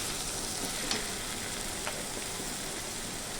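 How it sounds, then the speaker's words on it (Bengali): Ash gourd curry frying in a pan after sugar is added, a soft, even sizzle with a couple of faint spoon scrapes, brief and fairly quiet with no voices. "একটু চিনি দিয়ে আমি নাড়াচাড়া করে দিলাম"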